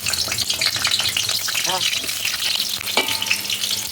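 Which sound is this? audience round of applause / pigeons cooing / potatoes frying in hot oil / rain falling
potatoes frying in hot oil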